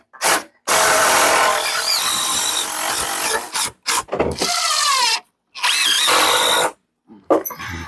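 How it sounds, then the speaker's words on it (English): Screw gun driving screws into old deck wood, several close, loud whirring bursts of varying length separated by short silences, the motor pitch dipping as each screw seats. "Get under here with that screw gun."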